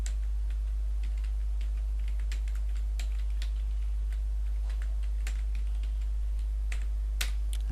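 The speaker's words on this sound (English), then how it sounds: "type in search box Cambridge Dictionary" Typing on a computer keyboard, a brisk run of close, crisp key clicks over a steady low hum, continuing alone without speech.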